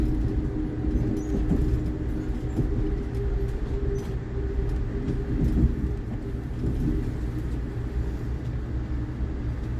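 An Amtrak passenger train rolls along with a steady low rumble and hum from inside the car, with faint rattles and clicks over it and no speech.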